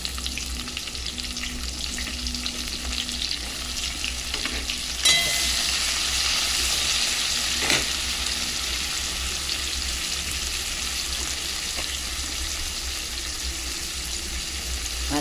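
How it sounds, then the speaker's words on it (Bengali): Onions sizzling in hot oil left over from frying chicken, a steady close crackling hiss that runs continuously, with a couple of brief stirring or clanking bumps partway through and no talk. "ওই তেলেতেই দিয়ে দেবো পেঁয়াজ।"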